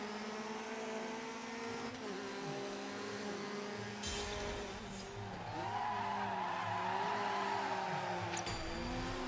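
Rally car drifting in DiRT 3, tires squealing and skidding through a turn while the engine hums and revs steadily, ending in a harder rise of tire scrub and acceleration.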